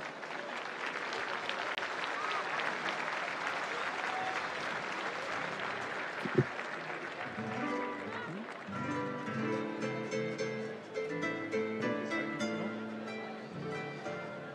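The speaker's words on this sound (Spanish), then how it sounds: "Acompañemos el desfile de las reinas con un fuerte y cariñoso aplauso" A rodeo crowd at a national rodeo championship applauds the queens' parade with sustained, fairly distant clapping, joined midway by music and a sharp thump.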